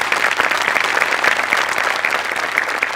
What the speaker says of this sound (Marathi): गणेश सरांसाठी एकदा जोरदार टाळ्या होऊन जाऊ देत